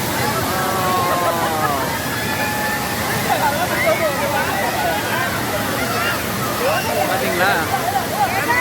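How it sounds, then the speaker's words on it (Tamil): Rushing water roars continuously at Thiruparappu waterfall, a dense steady wash close by, with a crowd of people chattering and calling over it. "இப்படி ஒரு அருவி."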